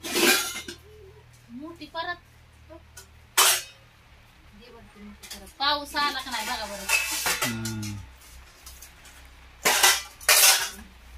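Cooking utensils are handled in a home kitchen, producing intermittent metallic clinks and clatters, a few of them loud. Someone talks between the sounds.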